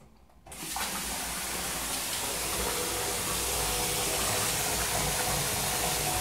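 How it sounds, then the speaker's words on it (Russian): A hotel bathroom tap in London gushes water after a brief quiet start, a loud steady hiss of flowing water that continues unbroken and alone. "Так, это вода течет."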